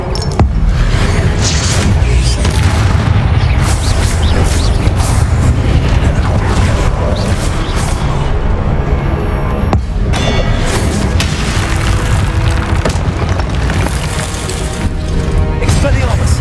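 Expelliarmus spell cast in the Hogwarts Legacy video game, a loud magical burst with booms, crashes and crackling impacts amid dense game music and effects, continuous throughout with brief dips.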